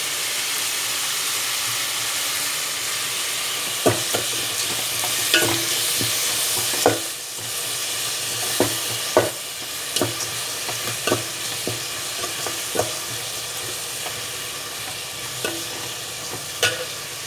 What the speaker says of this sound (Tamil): தக்காளி நல்லா வதங்கட்டும். இது வதங்கிறதுக்கு நம்ம உப்பு போட்டுக்கலாம்.